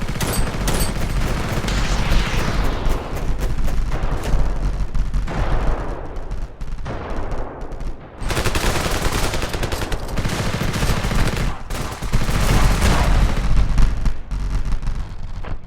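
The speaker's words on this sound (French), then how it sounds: "à la moindre erreur, des explosions de partout" Dense, continuous barrage of gunfire and explosions from the Ravenfield video game, with rapid automatic fire and booming blasts layered loudly throughout.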